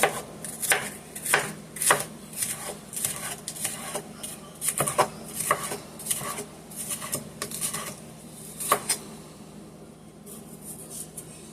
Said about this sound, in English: now I'm going to take and chop up I need my other knife, my chopping knife, my green peppers